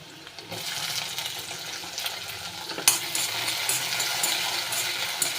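Tomatoes fry in hot oil for a quick okra dish, a steady, moderately loud sizzle with a few stirring knocks and a sharper clatter midway.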